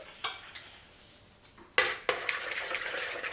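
A spoon or whisk clinks and scrapes against a bowl while yogurt cake batter with two eggs is stirred together, in scattered light taps that grow busier and steadier toward the end.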